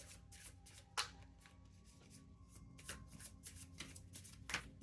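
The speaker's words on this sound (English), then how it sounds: "I'll pull like maybe 2 or 3 cards" Tarot cards being shuffled and handled close up: quiet, rapid riffling and slapping of the deck with soft papery flutters and a few sharper card snaps.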